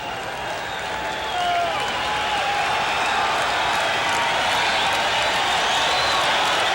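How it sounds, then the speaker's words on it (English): A small crowd at a Red Sox home baseball game against the Seattle Mariners cheers and applauds steadily, the noise swelling after the first second into a sustained roar of clapping and shouting. "this crowd is getting turned on"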